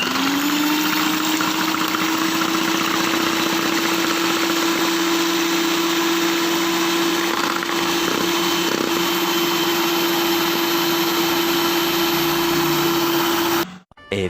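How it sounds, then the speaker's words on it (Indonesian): An electric mixer at medium speed beats cake batter with vanilla for a pineapple layer cake until foamy, a loud, steady motor whine running unbroken for about fourteen seconds before cutting off abruptly near the end. "Lalu akan kita mixer sampai berbusa"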